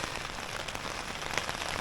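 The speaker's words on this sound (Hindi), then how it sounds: "आई एम श्योर जिस हिसाब से आवाज़ आ रही है ओले ही पड़ रहे होंगे" Hail patters densely on a camping tent during a solo Himalayan trek to Bhrigu Lake near Manali, a close, even hiss of countless tiny impacts with no voices.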